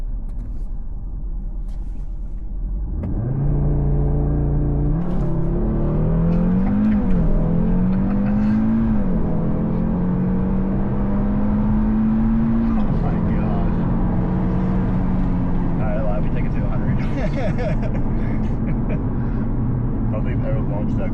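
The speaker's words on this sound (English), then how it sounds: "I don't think I've ever launched that quickly before." Audi RS3 launching hard from a stop in traffic, engine rumbling then surging loudly as it accelerates through rising revs, heard from inside the car and sustained for most of the stretch with people talking over it.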